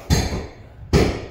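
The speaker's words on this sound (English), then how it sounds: "And you can hear a lot of hammering and chainsaw" Two loud, separate hammer blows on a roof during construction work where the skylight holes are being closed over, each a sharp thud with a short ringing decay, heard close with no voices.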